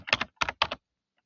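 Three short bursts of quick keystrokes on a computer keyboard, close and crisp, followed by silence.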